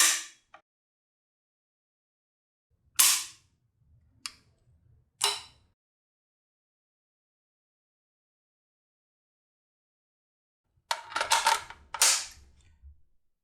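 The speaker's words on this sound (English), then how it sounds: "I'll clear the weapon and do a quick function check." Zastava M85PV rifle cleared and function-checked: a few sharp metallic clacks of the action cycling, then a dense burst of clicks and rattles near the end, close and isolated against silence.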